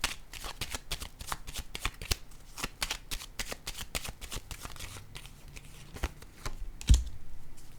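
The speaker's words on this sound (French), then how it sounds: "je vais déposer une carte." Cards shuffled by hand for a tarot-style reading, a close rapid flutter of riffling snaps followed by a card being set down with a soft thud near the end.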